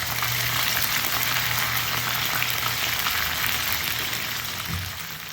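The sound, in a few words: chicken pieces frying in oil over medium flame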